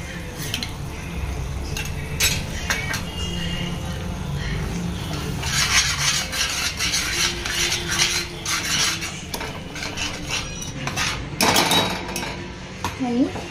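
A spoon clinks and scrapes against a pot as yogurt is stirred into dum aloo curry gravy, with irregular metallic knocks and rasps throughout and someone talking over them.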